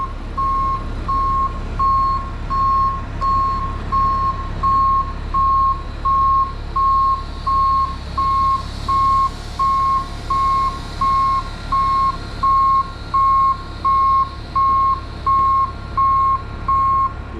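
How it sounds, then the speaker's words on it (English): A heavy tow truck recovering a broken 100,000-pound concrete pump sounds its reversing alarm while backing up, a loud, regular beep repeating roughly once per second over a low diesel engine rumble. "Backing off to readjust his cables."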